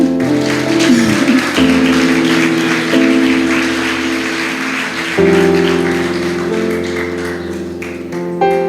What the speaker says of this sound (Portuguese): Aplauda o Senhor, vocês estão caladinhos.